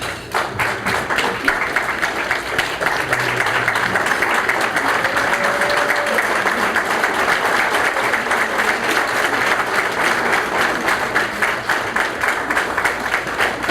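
A dinner audience at a scholarship event gives a sustained round of applause, dense and steady clapping from a large room lasting the whole stretch without a break.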